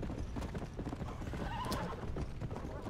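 A horse gallops steadily in Red Dead Redemption: Undead Nightmare, a continuous rhythmic clip-clop of hooves with a brief whinny partway through, heard fairly faintly.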